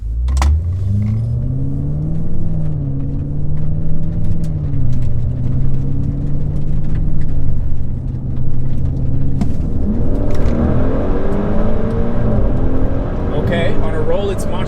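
A 2022 Mercedes GLE 63 AMG S and a 2022 Maserati Levante GTS accelerate hard side by side from a rolling start, loud engine roar climbing through gear changes with a shifting pitch, while people talk over it inside the cabin.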